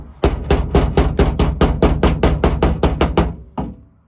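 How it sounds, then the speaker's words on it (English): Hammer blows strike tacks on a rusted car floor being repaired, about fourteen loud, close, evenly spaced metallic hits in quick succession, then a short pause and one final blow. "take a hammer"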